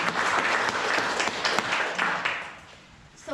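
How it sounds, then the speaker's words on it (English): A round of applause fills a Rotary club meeting room, steady clapping from many people that thins out toward the end. "give you a round of applause for your years of great Rotary excellence"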